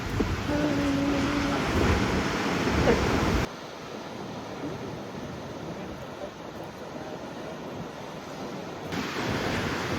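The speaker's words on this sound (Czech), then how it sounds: "Wow, ty vlny." Ocean surf pounding at Porto Moniz on Madeira, a loud continuous roar of breaking waves with wind buffeting the microphone; the level drops partway through, then swells back up near the end.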